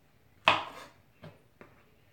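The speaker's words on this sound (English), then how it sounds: "So we're going to just get started chopping up the onions." A knife chops onions on a cutting board: one sharp, clear cut followed by two softer strokes, close and isolated in a quiet kitchen.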